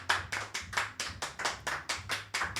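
Rhythmic hand clapping during a live Argentine stream celebration, about a dozen sharp, evenly spaced claps from a single person or small group, close and alone without talk.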